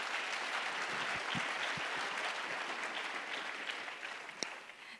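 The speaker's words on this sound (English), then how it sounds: "I'd like us just to give them a round of applause for investing in the future" A panel audience at an education event claps in a dense, sustained round of applause that gradually fades toward the end, with a few louder individual claps standing out.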